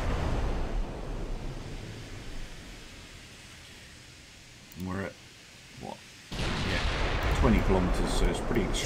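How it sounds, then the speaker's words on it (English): Naval artillery fires in the Ultimate Admiral Dreadnoughts WW2 battleship game, with two short booms standing out over a low, steady ocean ambience before a louder burst of rumbling sea noise. "She's only firing a rear turret"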